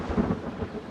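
Low, rolling thunder rumbles through a wildfire firestorm, a deep muffled roll that swells briefly and then fades, steady and without voices.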